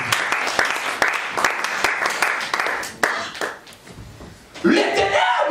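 A church congregation at an evangelical seminary claps and applauds in a dense, lively burst with sharp individual claps, the applause swelling again near the end, with voices mixed in.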